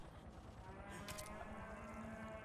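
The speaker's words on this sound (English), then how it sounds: "We can also just barely hear some mooing." Faint cattle lowing in Metal Gear Solid 4 sits under a steady droning background, with a brief brighter burst of noise partway through.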